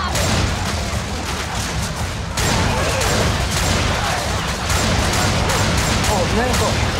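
Dense, continuous gunfire in the zombie shooter Left 4 Dead 2, loud and close, with rapid overlapping shots through nearly the whole stretch, a short break partway in, and players talking over it.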